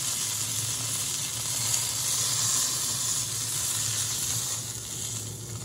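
Venison roast searing in a slightly too small pan, a steady close sizzle and hiss of hot fat running evenly throughout with no talking.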